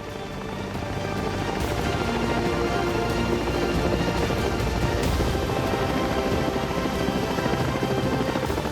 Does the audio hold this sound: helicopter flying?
yes